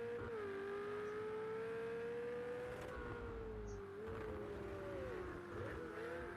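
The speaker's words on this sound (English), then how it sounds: "Really making use of the engine." A GTE race car in a sim racing series event at Long Beach holds a loud, sustained engine tone that climbs and dips through shifts, with faint tire noise and no speech.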